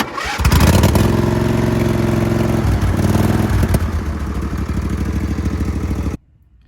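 A small engine on a homemade three-point hitch tiller cold-starts on choke: a quick pull, then a loud sputtering run that settles into a steady rapid chug before cutting off abruptly.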